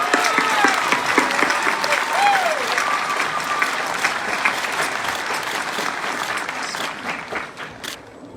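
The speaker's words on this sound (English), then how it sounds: "Let's give these folks a round of applause." Graduation crowd at W F West applauding award winners, a sustained broad roar of clapping with a few cheers and whistles, with a voice speaking underneath before the clapping thins out near the end.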